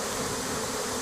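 A swarm of honey bees buzzes steadily, a dense, continuous drone heard close by with no other sounds.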